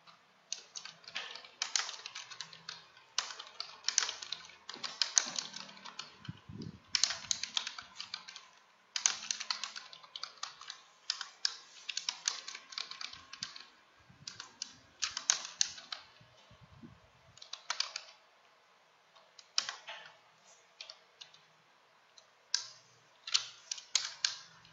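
Rapid bursts of keystrokes clatter on a computer keyboard, quiet and close, arriving in irregular clusters separated by short pauses with no talking.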